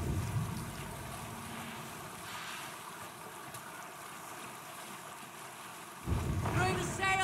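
A Viking longship under sail at sea in Assassin's Creed Valhalla, with steady wind and waves washing around the hull throughout, and voices speaking at the end.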